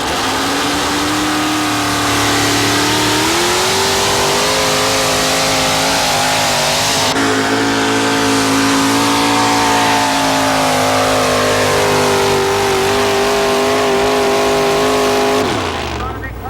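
A Ford truck engine revs hard during a 1987 truck pull at Fishersville, a loud sustained roar that climbs in pitch and holds, with an announcer talking over it throughout.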